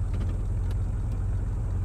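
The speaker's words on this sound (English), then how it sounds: "is the car noise too loud?" Low, steady car engine idle from a video game, a continuous rumble held close and unchanging throughout with no talk over it.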